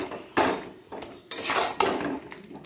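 Spice paste of onion, ginger, chili, cardamom, cinnamon and nutmeg being stirred with boiled chicken in a pan: three bursts of close, scraping metal-on-metal strokes with clatter, separated by brief lulls.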